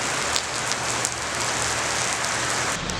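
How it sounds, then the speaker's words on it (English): Steady rain falls on a surface outdoors during a road trip, a dense even hiss with scattered drop patter throughout, no voices. "The rain has decided to make a cameo appearance."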